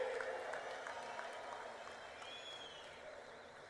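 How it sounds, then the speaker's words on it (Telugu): A crowd at a political rally applauds, a faint, distant patter of clapping that slowly fades away. "అలాంటప్పుడు చప్పట్లు ఏ విధంగా మారుమోగాలో ఒక్కసారి మళ్ళా చేసి చూపించండి."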